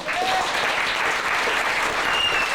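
An audience gives a warm round of applause at a talk, continuous dense clapping at steady volume from start to finish, full and close, with a faint voice briefly underneath.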